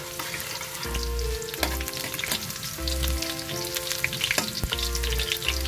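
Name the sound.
garlic frying in a pan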